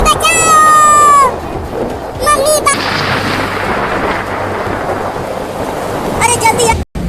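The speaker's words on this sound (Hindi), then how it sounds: "देखो कितना बादल गरज रहा है" Thunder rumbles through steady heavy rain in a noisy outdoor scene, with children's high voices shouting over the downpour at the start and end.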